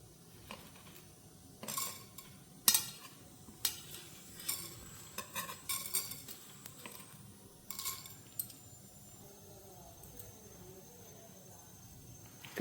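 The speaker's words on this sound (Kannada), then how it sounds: "ಎಣ್ಣೆ ಬಿಸಿಯಾಗಿದೆ. ಈಗ ಉದ್ದಿನಬೇಳೆ ಸೇರಿಸ್ತೇನೆ." Urad dal frying in hot oil with cumin and fenugreek, stirred with a metal spoon in a pan: soft sizzle under intermittent scraping and clinking of the spoon against the pan, close and fairly quiet.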